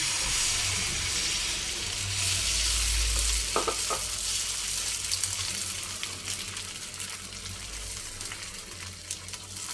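Egg mixture spread on a hot griddle for egg rolls sizzles and fries steadily, a close, loud hiss with a low hum beneath and a couple of brief clinks partway through.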